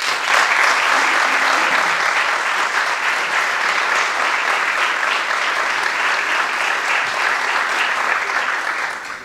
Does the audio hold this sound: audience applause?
yes